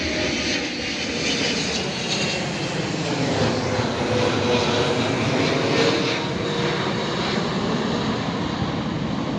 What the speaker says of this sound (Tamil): ஃப்ளைட் அடிக்கடி போயிட்டே இருக்கும்.